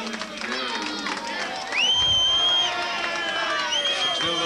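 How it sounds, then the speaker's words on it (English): A rugby league crowd at a Keighley versus Warrington match cheers and whoops in a loud, sustained roar that swells midway, with a commentator's voice faintly underneath. "The crowd are saying it's good"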